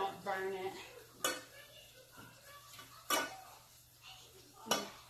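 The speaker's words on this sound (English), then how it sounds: "So I'm just going to keep on whisking it around just until those bubbles subside" A whisk clinks and scrapes against a metal pot while stirring a foamy white sauce for sausage lasagna, with three sharp, close metallic knocks spaced a couple of seconds apart over softer stirring.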